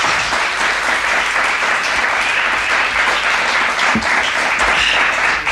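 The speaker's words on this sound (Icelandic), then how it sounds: "En hefur ekki að fá klapp fyrir þetta stig?" A studio audience applauds a point scored on a quiz show, a sustained, loud burst of clapping that holds steadily throughout.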